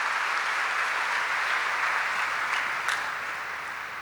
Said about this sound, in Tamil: நல்லா சத்தமா கைத்தட்டலாம்.